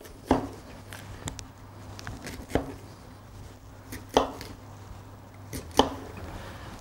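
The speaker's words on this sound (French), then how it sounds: "on coupe un gros morceau, on le coupe en deux" A knife chops cauliflower steadily on a cutting board, sharp single strikes spaced about a second apart, close up, over a faint low hum.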